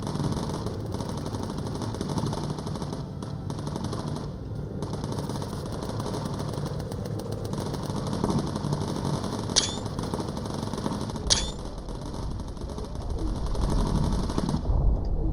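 Bomber machine guns firing in the aircraft game Bomber Crew, a continuous rattling burst over steady engine drone, with two sharper bright cracks standing out near the end.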